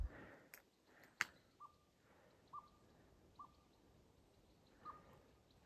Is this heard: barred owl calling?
yes